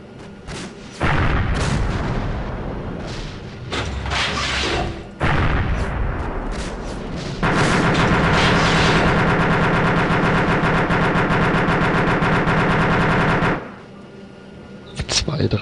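Artillery fire and gunfire in the military simulator ARMA II: heavy booming impacts and rattling gun bursts, then a long dense barrage of continuous loud fire before it cuts off, with brief talk in German around it.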